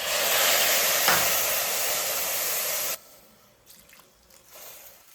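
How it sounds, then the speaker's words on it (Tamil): Half a cup of water poured into a pan of jaggery, a loud steady rushing splash for about three seconds that then stops abruptly, leaving faint drips and small clinks. "ஒரு 1/2 கப் தண்ணி ஊற்றிக்கலாம்."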